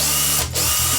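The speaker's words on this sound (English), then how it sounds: "I marked up where I needed to drill the LED hole and then got to drilling" A power drill bores an LED hole through a metal wah pedal enclosure, a steady close whirring grind with a brief dip in the middle before the motor picks back up.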